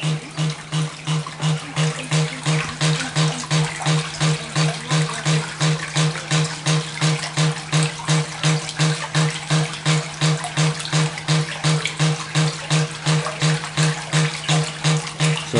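A Blake Hydram hydraulic ram pump running in a pit with water, giving a steady rapid rhythmic pulsing and splashing throughout, close and loud, with a constant low hum beneath.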